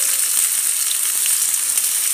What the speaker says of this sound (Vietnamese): rán đậu rồi đấy, rán đậu bằng đũa không nát